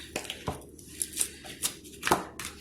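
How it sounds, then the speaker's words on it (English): A knife cuts through a block of salted butter on a board, giving a series of soft, close taps and thuds, roughly eight irregular strokes, quiet and with no talk. "And we're just going to cut up the butter"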